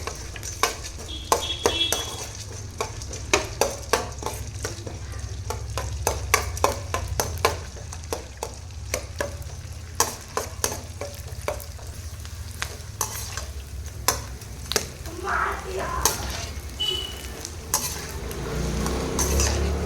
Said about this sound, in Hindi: घी को हम तेज़ गरम कर लेंगे और ये अब जो गोंद है भून लेंगे